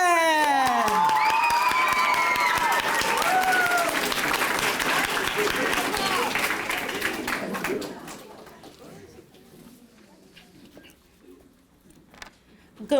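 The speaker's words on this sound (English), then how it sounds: "It is none other than, and give her a loud round of applause, Miss Martin!" A school audience at a seventh-grade Black History Month celebration at Samuel S. Gaines Academy breaks into loud, sustained clapping mixed with whoops and cheers, then the applause fades away to near quiet over the last few seconds.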